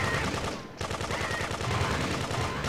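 Rapid automatic gunfire from Grand Theft Auto 2 rattles in a loud, continuous stream of shots, with one short pause, then resumes just as dense.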